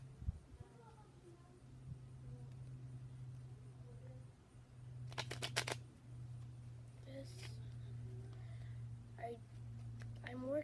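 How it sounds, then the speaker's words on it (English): Playing cards riffle shuffled by hand for a card game: a short, dense burst of rapid crackling flutter midway, set against a steady low hum and soft background murmur. "first just start with shuffling your cards. Do a rifle shuffle"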